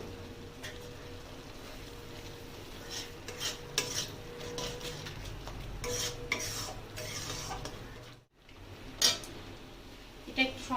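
Crab curry masala being sautéed in a pan, with quiet scraping and stirring strokes, light clinks of utensil on metal and a soft sizzle, pausing briefly near the end.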